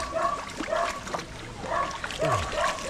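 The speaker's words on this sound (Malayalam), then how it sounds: "ഇപ്പം വെള്ളം നന്നായിട്ട് വീഴുന്നു." Water pours steadily through an opened channel in the Kuttanad backwaters of Kerala, making a continuous rushing splash nearby, overlaid by whining, wavering voice-like cries.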